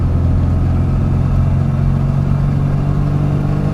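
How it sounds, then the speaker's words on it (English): A restored 1991 Rover Mini City-E 1000 pulls in third gear, its small engine droning steadily and loud from inside the car with a constant low hum. "Going to third gear now."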